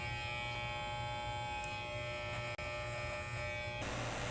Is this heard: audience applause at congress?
no